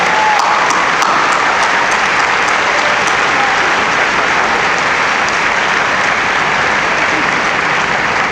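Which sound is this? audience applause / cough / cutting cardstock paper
audience applause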